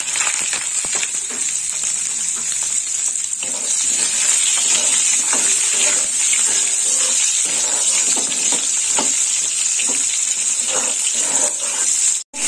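Sliced onions fry in oil with dried red chili and bay leaf, giving a steady, loud hiss of sizzling throughout with a few brief clinks, cutting off abruptly at the very end; no one speaks.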